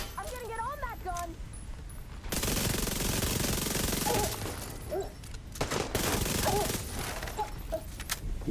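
Sustained bursts of machine gun fire in a video game, loud and dense for several seconds at a time with short gaps between volleys, under voices talking.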